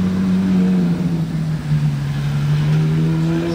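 Ferrari 812 GTS with Novitec tuning passing on a Monaco street: a loud, close V12 engine drone with a steady low tone that rises gently as the car pulls through, with no pauses.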